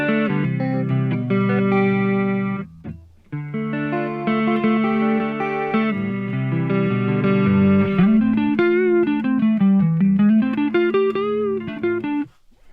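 An electric guitar plays sustained chords and a bending lead line with a shimmering, wavering chorus effect, loud and close, no voices.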